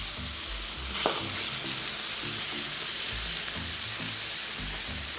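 A seasoned burger patty sizzles loudly in an oiled cast iron pan, a steady close frying hiss with crackles and spatter that runs the whole time.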